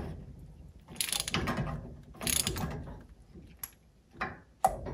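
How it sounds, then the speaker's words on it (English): A 15/16 socket wrench ratchets a nut down on the preload setup of an Alpha One Gen 1 sterndrive, giving bursts of mechanical clicking and grinding with short pauses and a couple of sharp metallic ticks near the end. "We will now grab the 15/16 socket and carefully tighten it."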